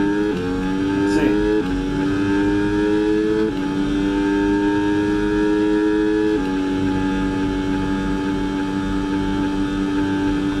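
Simulated F1 race car engine from the F1 2026 game, a steady loud mechanical whine holding high revs with brief pitch steps as gears change, continuous throughout with no talk.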